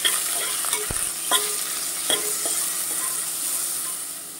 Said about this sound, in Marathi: आणि थोडंसं मीठ आपण टाकूया आणि कांदा भाजून घेऊया आपण।